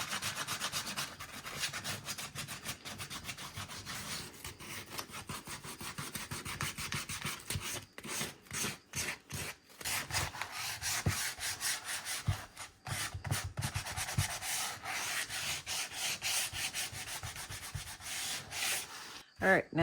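Wood edges being sanded by hand for a distressed look, a loud, close, rhythmic rasping in quick back-and-forth strokes with brief gaps, continuing steadily throughout.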